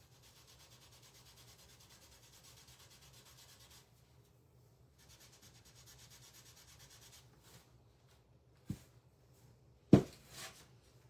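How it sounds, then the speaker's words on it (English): Sandpaper rubs back excess paint that went over a line, quiet repeated scratchy strokes in two bursts, then a pause and a couple of sharp knocks near the end. "I'm just going to sand it back."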